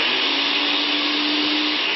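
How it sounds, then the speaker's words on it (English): Cuisinart SPB 600 SmartPower Deluxe die-cast blender running on high, a loud, steady, dense motor roar with a constant whine that holds unbroken throughout. "I have yet to find a quiet blender, and this one is no exception"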